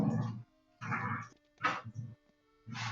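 A dog named Jarvis growls and grumbles in low, rough bursts while playing with another dog, faint and somewhat distant in the background.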